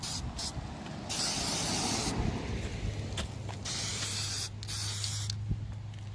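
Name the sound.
DEI high temp spray paint sprayed on brake calipers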